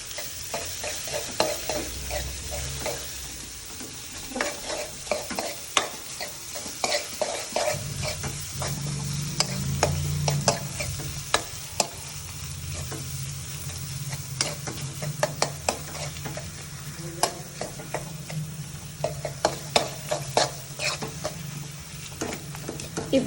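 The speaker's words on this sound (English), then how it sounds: "Now mix the mashed potatoes properly with the" Mashed potatoes stirred into a sizzling tadka in a pan, with repeated scraping strokes of a spoon over a steady frying hiss, close and fairly quiet with no talk.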